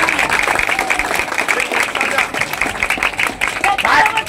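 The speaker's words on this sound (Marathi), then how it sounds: "नितीन भाऊ सकट या सगळ्या सहकार्यांचं जोरदार टाळ्या वाजवून त्यांचं अभिनंदन करा" A crowd at a protest gathering in Panvel claps continuously in dense, loud applause, with crowd noise mixed through it.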